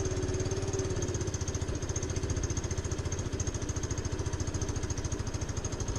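An engine fitted with a big bore kit idles while warming up, running rich with the idle set low: a steady, rapid thumping chug with a loping pulse, close and constant, alone without voices.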